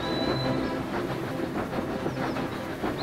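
Train ride in an animated cartoon: steady rhythmic clickety-clack of rail wheels with hissing rumble and a brief high whistle-like tone, continuous and fairly loud with no talk.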